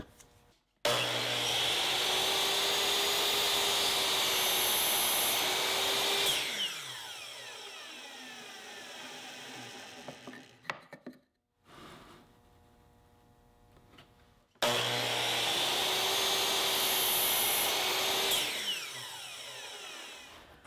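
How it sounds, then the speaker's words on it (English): A miter saw whines up loudly and cuts through molding against a sacrificial wooden fence, winds down, then after a quiet pause with small clunks starts again for a second close, loud cut. "you don't need to bring the saw all the way down. Once you cut through the molding, then you're good"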